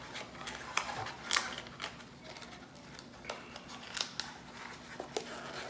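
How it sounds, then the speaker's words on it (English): Cardboard box flaps folding in along their seams, a quiet run of close crisp rustles and papery snaps scattered across a few seconds, faint against a soft background. "Now these flaps just fold in."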